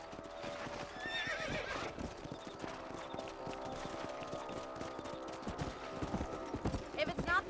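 Horse in Red Dead Redemption neighing and trotting, with steady clip-clop hoofbeats throughout and whinnies near the start and end, under game background sound and some talk.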